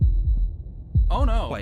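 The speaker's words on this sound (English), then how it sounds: "That was the sound of a heartbeat" Heartbeat sound effect in the video game Slay the Princess: deep, close thuds in a slow lub-dub rhythm, about four beats, with a voice speaking over the last beats.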